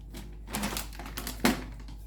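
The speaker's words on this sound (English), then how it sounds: "I'm gonna put all 3 into one Mylar bag" Freeze-dried steak pieces dropped and rustled into a Mylar bag, giving a run of dry, crinkly crackles that swell midway and end in one sharper crunch, close and fairly quiet.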